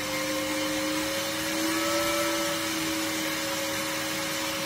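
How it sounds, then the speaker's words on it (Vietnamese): A small electric fan motor runs on 12 volts with a steady, close whirring hum and a constant whine, rising slightly in loudness around the middle. "Các bạn nghe tiếng quạt nó tăng không?"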